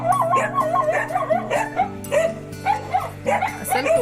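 Dogs at a tiled-roof Konkan village house howl and whimper in drawn-out, wavering cries, with sharp yips breaking in at intervals, close and fairly loud, with no speech.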